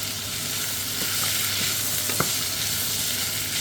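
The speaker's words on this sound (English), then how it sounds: "So folks, I'm now going to go in with the celery and the carrots." Celery and carrots sizzling and frying in a small pan for potato and leek soup, a steady close hiss with a few soft stirring clicks, no talking.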